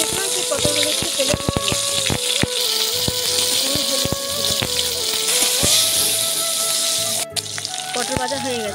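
Cut pointed gourd (potol) sizzles loudly in hot oil in a home kitchen, a continuous crackling fry broken by utensil clinks and a stirring sound, with a voice briefly heard.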